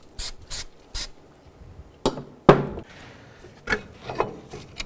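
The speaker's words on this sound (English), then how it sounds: "go ahead and spray it down with a cleaner." A few quick hissing sprays from an aerosol cleaner can onto a brake caliper of a Dodge Durango, followed by scattered rubbing and clattering of parts being handled nearby.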